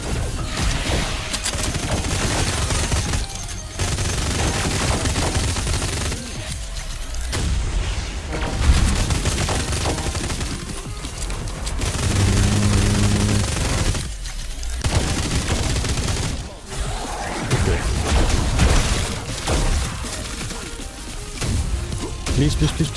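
Submachine gun fire in the shooter Wrack: Reclamation on its hardest difficulty, sustained dense bursts with heavy impacts and booms across the whole stretch, loud and busy, with brief gaps between volleys.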